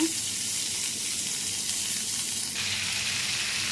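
Salted steak sears in a hot pan over high flame, giving a loud, dense, continuous sizzle close by.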